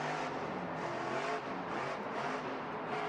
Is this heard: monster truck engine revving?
yes